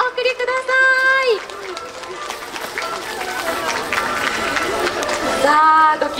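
A crowd claps at the lantern-lighting ceremony of the Nagasaki Lantern Festival, sustained outdoor applause with a mass of hands under an announcer's voice that opens and closes the stretch, plus background chatter.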